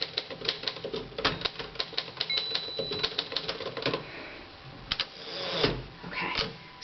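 Manual typewriter being typed on, a steady run of sharp key strikes with short pauses and a few heavier clacks, close and alone with no talk.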